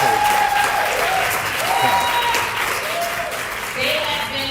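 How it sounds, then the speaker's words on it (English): Audience applause at a church gathering honoring a group of girls, steady dense clapping throughout with cheering voices and whoops rising over it. "Can we please give them a round of applause"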